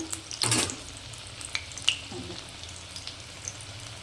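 Egg fritters (bora) frying in hot oil, a continuous close sizzle broken by a loud burst of spattering early on and scattered sharp pops and clinks, with no talk.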